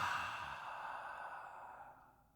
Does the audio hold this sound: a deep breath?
yes